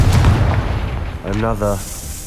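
The Confringo fire spell in the video game Hogwarts Legacy bursts in a loud, booming blast that rumbles and fades, followed by a short spoken voice line.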